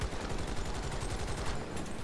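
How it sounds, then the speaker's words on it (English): Submachine gun fire in Battlefield 2042 rattles in a fast, even stream of shots across the whole moment, steady and close without pauses. "I'm on E trying to do something about this tank with my fucking SMG"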